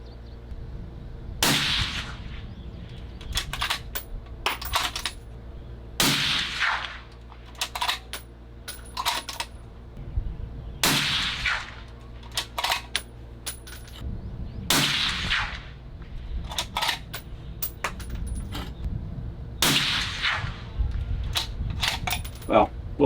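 A Sig Cross rifle fires a string of sharp, loud shots with a prefit PROOF barrel during a range test, each crack followed by a brief ringing decay, spaced a few seconds apart, with quiet talk between shots.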